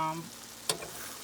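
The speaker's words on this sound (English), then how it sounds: "So this is my fajita meat. It's cooking." Seasoned chicken fajita meat sizzles in a hot pan, a steady close crackling fry with a sharp stir or scrape partway through.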